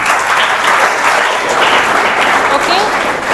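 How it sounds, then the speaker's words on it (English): Audience applause in a hall during a medical careers talk, a steady dense wash of clapping lasting about three seconds at full loudness, with no voices over it. "A round of applause for him."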